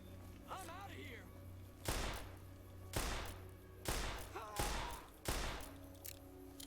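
Gunshots in Fallout: New Vegas ring out as five loud, evenly spaced reports about a second apart, each with a thudding impact, over a low game ambience with brief vocal sounds in between.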